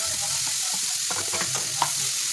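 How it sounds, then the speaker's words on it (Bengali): Potato pieces fry in hot oil in a kadai for a raw banana vegetable dish, giving a steady close sizzle broken by a few scraping stirs. "তো আমি ওইগুলো হয়ে গেলে এখন আলুগুলো ভেজে নেব। আমি ওই কড়াইতে দিয়ে দিয়েছি, তেল ছিল বলে।"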